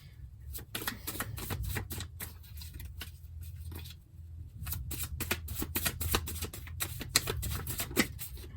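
A deck of tarot cards being shuffled up close, quick bursts of papery riffles and flicks in uneven clusters over a low background hum, briefly pausing midway before resuming.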